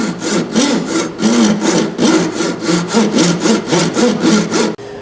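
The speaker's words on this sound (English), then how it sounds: "I'm going to go ahead and cut the wedge slot." A hand saw cuts a wedge slot into the tenon of an oak kitchen chair under repair, making loud, close back-and-forth strokes at a brisk steady rhythm that stop abruptly near the end.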